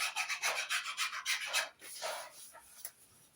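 Sandpaper rubbed back and forth on the wooden headstock of a Telecaster guitar kit, a close, rhythmic rasping in steady strokes that slow and thin out toward the end.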